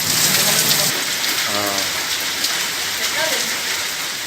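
Heavy, steady rain falls in Bettiah district headquarters, a dense continuous hiss of drops on surfaces, loud and close, with a brief tonal sound passing over it and no speech.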